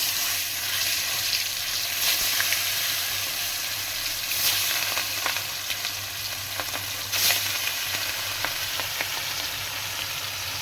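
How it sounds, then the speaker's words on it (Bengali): Continuous crackling sizzle of chela fish frying in hot oil in a kadai, close up, with occasional sharper pops and spatters. "এবারে আমি মাছগুলো ছেড়ে দেবো একে একে"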